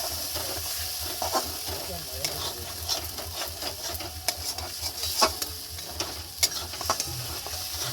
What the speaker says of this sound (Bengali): ভালো করে কষিয়ে নেবো মশলাটা